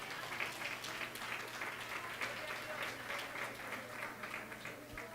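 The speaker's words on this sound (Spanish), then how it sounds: "denle un fuerte aplauso al Señor" A congregation claps together during a Spanish-language church service, a continuous wash of applause held steady for several seconds, fairly faint and distant with a low hum underneath.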